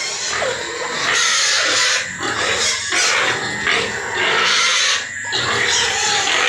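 Pigs in a large farm pigpen grunt and oink loudly and continuously at close range, in overlapping bursts with brief squeals and no talking.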